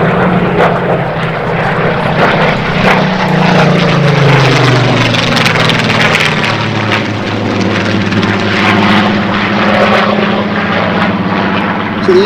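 A propeller aircraft engine droning loudly overhead at an airshow, a continuous powerful roar that swells and shifts slightly in pitch as the plane passes, with no talk over it.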